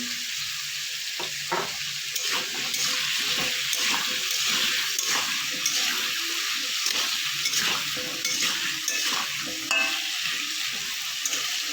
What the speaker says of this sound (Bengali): আলুটা আমার কিছুটা ভাজা হয়ে গেছে